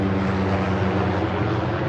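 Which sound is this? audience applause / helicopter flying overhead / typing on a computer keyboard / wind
helicopter flying overhead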